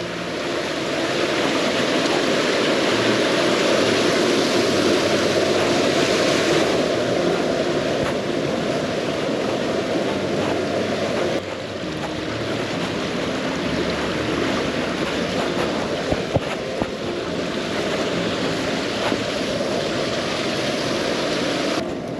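Loud, continuous roar of rushing water from a waterfall, heavy and steady throughout, with a brief dip and a few faint knocks near the end.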